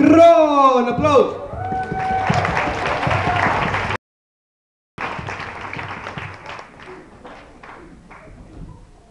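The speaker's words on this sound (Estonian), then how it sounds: "aplaus!" An audience at a school winter party breaks into loud applause after a shouted announcement, clapping dense and sustained, cut by a brief silence, then resuming and fading.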